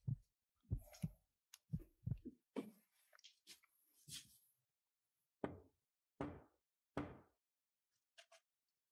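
Knocks on a room door inside an old mansion sound as short, sharp raps in small clusters, with pauses of silence between them. They are close and fairly quiet in a still room.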